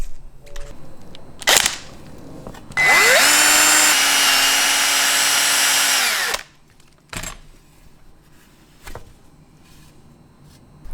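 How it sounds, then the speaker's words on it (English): A power drill fitted with an eraser wheel spins up with a high whine for a few seconds, removing a decal from a Toyota AE86, amid sharp clicks and knocks before and after. "I had to use this thing, an eraser wheel on a drill to get that Trueno decal off."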